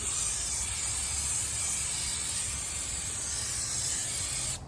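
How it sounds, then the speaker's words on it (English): A continuous, loud aerosol spray of brake cleaner hisses steadily for several seconds up close, then cuts off abruptly. "spray a little bit of brake clean."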